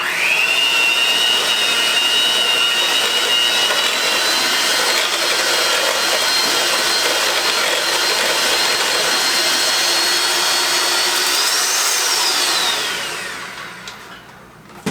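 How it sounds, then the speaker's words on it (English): A mixer whirs steadily through raspberry zinger cake batter in a bowl by the stove, a loud continuous motor drone that shifts pitch near the end before cutting out. "I'm going to move the bowl right here to the stove and mix up the cake mix."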